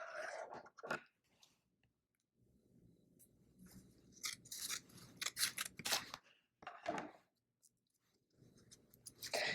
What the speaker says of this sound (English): and then just cut right along the center.